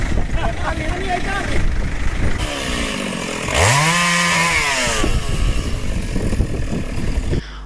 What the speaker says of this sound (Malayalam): നാട്ടുകാരെ സംഘടിപ്പിച്ച് മരം മുറിച്ച് നീക്കുകയായിരുന്നു